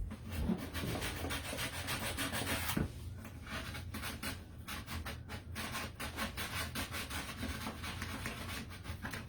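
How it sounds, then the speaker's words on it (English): Someone sands the edges of a sign by hand; quiet, rhythmic rubbing strokes scrape back and forth continuously, with no talking. "I want to make sure I get it sanded good on the edges"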